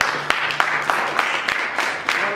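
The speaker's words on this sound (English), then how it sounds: "Clap it up." An audience at a motivational workshop in Biloxi claps in a steady rhythmic beat, sharp regular hand claps over a dense crowd wash, loud and close.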